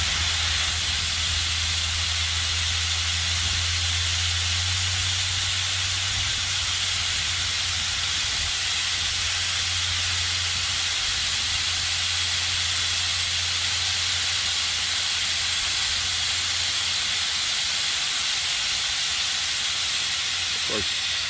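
Propane escapes from a tank valve during liquid propane transfer, a steady, broad hiss under pressure running throughout, fairly loud and unbroken, with a faint low hum underneath.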